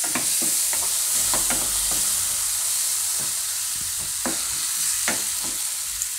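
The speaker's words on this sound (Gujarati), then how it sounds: "મેથીને થોડીક વાર આપણે પાકવા દેવું 2 મિનિટ માટે, વચ્ચે વચ્ચે હલાવતા રહેવું" Fenugreek leaves cook in a pan with a steady broad sizzle while a utensil stirs them in repeated scraping strokes, close and fairly loud.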